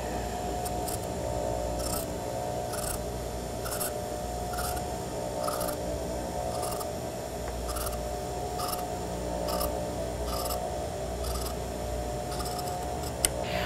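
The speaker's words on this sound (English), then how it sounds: "The next thing I'm going to do is I'm going to use my scissors." Repeated crisp snips of scissors cutting through fabric, evenly spaced and close, over a steady background hum.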